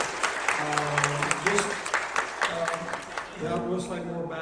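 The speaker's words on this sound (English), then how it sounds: "Give him a hand clap." Lively church audience applause greets a visiting bishop, brisk claps rattling throughout while someone speaks and voices rise over the clapping near the end.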